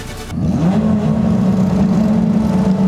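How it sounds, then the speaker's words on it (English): Toyota FR open-wheel race car engines at Taupo revving hard on the grid just before the start, a loud sustained mechanical roar that swells after a brief quiet moment. "Up go the revs."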